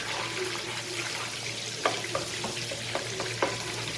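Garlic frying in coconut oil, a moderate steady sizzle with a low background hum and several sharp pops and utensil taps toward the end.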